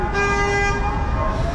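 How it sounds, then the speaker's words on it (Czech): A car horn blares in a long sustained toot over street traffic in the United States. It is loud and close, with the rumble of passing vehicles beneath it. "Já se na to troubení jako nikdy nezvyknu tady."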